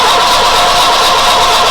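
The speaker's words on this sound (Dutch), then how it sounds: "En dan kunnen we nu de motor gewoon eventjes laten tornen" Diesel-type engine on a hydraulic test rig being turned over for a few strokes without firing, a steady continuous churning drone, loud and close with no talk.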